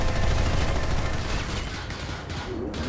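Dense, continuous gunfire in the sci-fi shooter PlanetSide 2, a loud wall of overlapping shots and blasts with no gaps.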